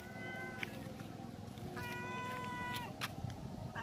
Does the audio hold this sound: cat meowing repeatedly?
yes